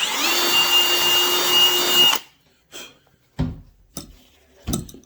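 A power drill enlarges a bolt hole in aluminum while mounting a bag on a Harley, running loud and steady for about two seconds before stopping, followed by a few short knocks and clatters.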